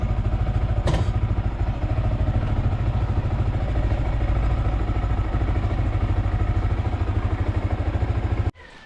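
Motorcycles ride over a rough, potholed and muddy dirt road, giving a steady, loud engine drone with rattling clatter throughout. A brief thump sounds near the start, and the sound cuts off abruptly near the end.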